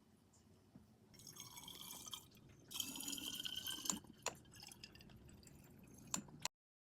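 Water is poured into a chinchillas' water bottle indoors, a soft trickle that swells into a louder splashing fill, then ends in a few faint drips and clicks before quiet.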